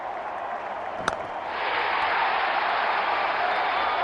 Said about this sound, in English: Here come the openers, greeted with a loud cheer from the crowd.